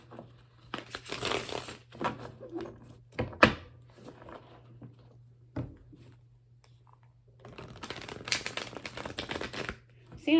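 Tarot cards being shuffled in bursts of crisp riffling and flapping, with quiet pauses and occasional taps between shuffles.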